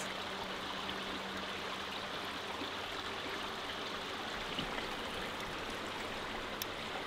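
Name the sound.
stream at Waterfall Gully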